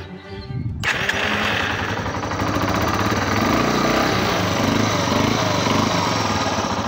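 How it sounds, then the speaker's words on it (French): A motorcycle engine that had sat unused for three years starts up and runs loud and close, a steady rough rumble filling the whole stretch after a brief lower sputter at the start. "Ma moto. Ouais, je suis motard."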